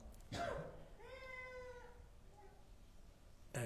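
A cat meows inside a mosque, one clear drawn-out meow followed by a fainter short one, heard close and alone after a brief noise at the start, with a quiet room hum behind.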